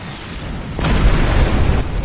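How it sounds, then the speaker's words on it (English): Heralds in Star Trek Online open fire on the time portal, a deep booming energy blast that swells midway into a sustained rumbling roar, loud and close, with no voices. "The Heralds are firing on the portal!"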